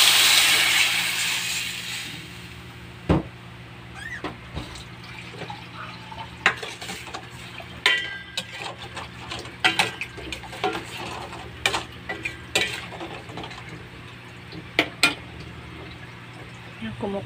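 Pot of broth coming to a boil on the stove, with a background hiss, a steady low hum and scattered clinks and scrapes from stirring with a utensil, heard close with no talking.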